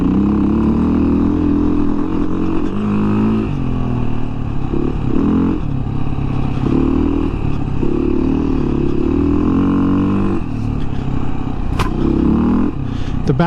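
A 2017 Beta 500 RR-S dirt bike on its stock exhaust rides a technical trail, its engine note rising and falling in repeated surges of throttle, loud and close.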